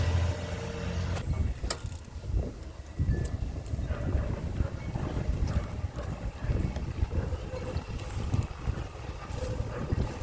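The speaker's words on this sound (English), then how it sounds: "That's the new parts truck" A parts truck drives up outside at Christmas, its engine a steady low rumble mixed with wind noise over the microphone, continuous and moderately loud throughout.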